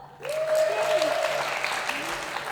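Audience applause rises sharply and holds steady at a literature festival poetry gathering, while a voice talks over the clapping.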